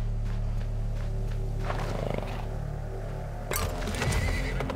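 A horse in the video game Weird West neighs and snorts in long, rising calls, with faint hoof clopping and a steady background hum.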